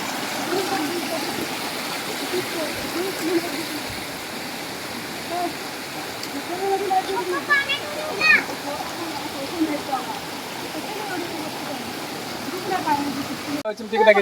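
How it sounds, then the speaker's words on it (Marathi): Gokundi waterfall in the Sahyadri hills, a year-round cascade, gives a steady broadband roar of falling and rushing water, with faint bursts of people talking over it. "जो धबधबा आपल्याला दिसतोय ना त्या धबधब्याकडे आम्ही जायचा प्रयत्न करतोय"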